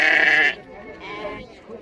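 Sheep and lambs bleating at a livestock market, one loud nearby bleat followed by fainter ones, with someone talking over them.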